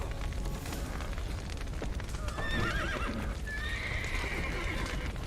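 Horses in The Witcher 3 whinny and neigh loudly amid hoof clatter and a roaring, crackling fire from a collapsed burning building, with two distinct neighs in the middle and later part.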